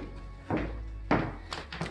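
A coat closet door in a house opens with a couple of close, dull thunks and soft knocks spaced over about two seconds, in a quiet room with no one speaking.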